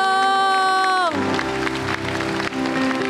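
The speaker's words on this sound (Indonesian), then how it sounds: "Wow, selamat, tepuk tangan" An audience at a television variety show breaks into applause after a sustained musical chord fades out, with clapping that continues at moderate volume.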